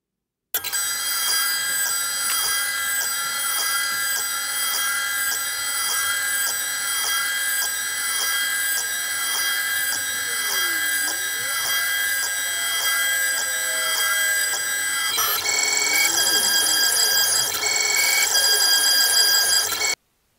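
A CNC machine at work, its spindle giving a loud, steady high-pitched whine that runs unbroken, then shifts to a brighter, harsher tone for the last few seconds.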